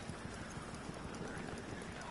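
A cavalry horse gallops in a video game, a rapid, steady clip-clop of hooves sounding close and continuous over a dense noisy background.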